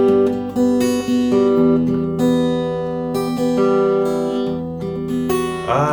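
Fingerpicked guitar played freely with no foot tap, metronome or drum beat, a steady stream of sustained plucked notes and chords drifting in uneven timing, close and fairly loud, with no voices.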